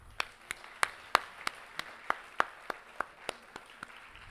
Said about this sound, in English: A great round of applause for the children now.